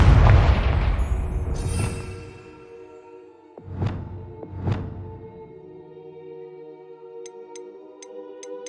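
Confringo spell blasts in the Hogwarts Legacy video game: a heavy booming explosion decays at the start, followed by two sharp whooshing bursts and faint chiming game tones.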